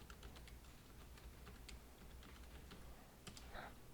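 Quiet, steady clicking of a computer keyboard as someone enters data into accounting software, with a run of light, evenly spaced keystrokes close by.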